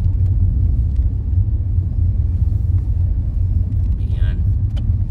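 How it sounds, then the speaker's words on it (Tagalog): Morning road traffic in Manchester, a continuous low rumble of passing cars heard from nearby with a brief higher tone near the end. "traffic na umaga pa lang"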